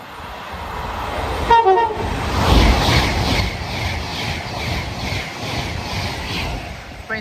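A West Coast Main Line express from Manchester Piccadilly to London Euston rushes through Nuneaton at speed, a loud, continuous roar of wheels and motion with short horn toots near the start.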